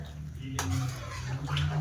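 Rice and water shaken and sloshed around in a metal pot, a close, continuous swishing with light clinks of grains and metal against the pot.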